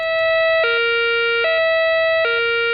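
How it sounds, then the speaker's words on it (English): A COMAR major accident emergency alarm siren at an industrial site sounds a steady multi-tone electronic wail, broken by three regular, brief pitch drops roughly every 0.8 seconds, loud and alone with no voices. "a special COMAR alarm will be sounded if there's a danger to the public"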